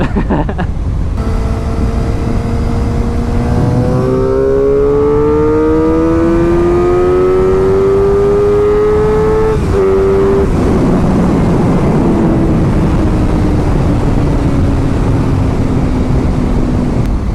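A black 2016 Suzuki GSX-R 750 L6 sport motorcycle screams at high speed, its engine note climbing steadily through the gears with loud, continuous wind-rushed revving before easing off into a lower drone.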